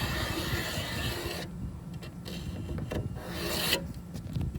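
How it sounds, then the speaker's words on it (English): A permanent marker drawn along the side of a homemade pontoon boat gives a steady dry rubbing scrape, close and continuous, with no talk over it. "I'll take my marker and I'm gonna mark it. Marking it all the way from the top to the bottom."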